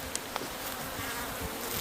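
Honeybees at a new hive one week after a swarm was captured hum in a continuous, even buzz with a few faint clicks and no voices.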